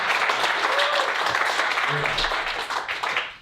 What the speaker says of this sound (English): Clap it up for Jay, guys.